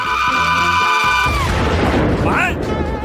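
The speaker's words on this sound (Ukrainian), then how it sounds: "Здається, то була цукеркова бомба." In an animated comedy scene, a candy bomb goes off: a sustained tone cuts out abruptly into a loud, broad rushing blast that fills the rest of the moment.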